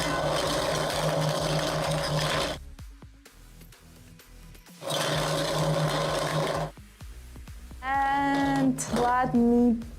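Lottery-style sphere of numbered balls mixed by a motorized machine during a live game show, heard as two loud rattling, whirring bursts of a few seconds each with a pause between, followed by a short stretch of talking.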